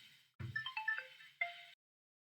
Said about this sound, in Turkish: kusura bakmayın telefon çaldı